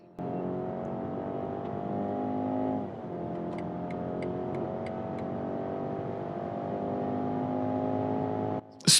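An Audi Q5 or BMW X3 SUV accelerating, heard from inside the cabin as a steady engine drone that shifts in pitch partway through, with a few faint clicks before a sharp noise at the end.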